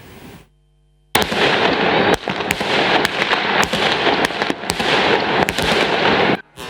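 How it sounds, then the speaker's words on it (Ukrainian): After a short quiet moment, New Year fireworks erupt over the city of Dnipro in a dense barrage of loud bangs and crackles, with sharp individual blasts standing out. "сяє у спалахах тисяч фейерверків"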